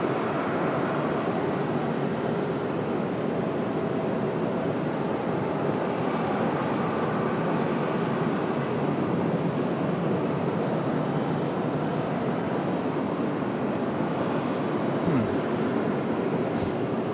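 Airplane on its takeoff roll from runway 23 right at Raleigh-Durham International, a steady broadband engine roar that holds loud and even throughout with no voices.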